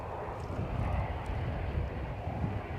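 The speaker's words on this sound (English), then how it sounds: "Loganair have got an ATR strumming away in the background" A Loganair ATR turboprop runs its engines at an airport, a steady broadband drone heard from a distance with some wind rumble on the microphone, no voices present.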